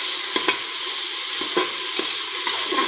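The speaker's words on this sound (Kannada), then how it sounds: "ಇನ್ನು ಟೊಮೆಟೊವನ್ನು ಹಾಕ್ತಾ ಇದ್ದೇನೆ. ಟೊಮೆಟೊವನ್ನು ಹಾಕಿ ಸ್ವಲ್ಪ ಫ್ರೈ ಮಾಡಿಕೊಳ್ಳಿ." Tomatoes fry with onions in a pan, a constant bright sizzle with a few soft scrapes and taps from stirring, close and with no talk.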